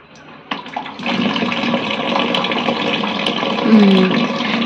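Water runs from a household tap while a small child washes their face, a steady close splashing stream that starts abruptly after a quiet moment and continues without a break.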